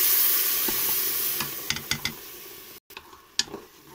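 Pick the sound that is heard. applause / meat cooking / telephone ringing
meat cooking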